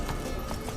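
Horse hooves gallop at speed in The Witcher 3, a dense, continuous drumming of hoofbeats under a steady rumble, loud and close.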